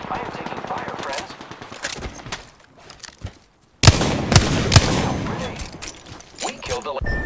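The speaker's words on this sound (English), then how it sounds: "I am taking fire, friends." Game gunfire from Apex Legends in bursts of automatic shots, loud and close, broken by a near-silent gap and then heavier volleys, with game voice lines over the action.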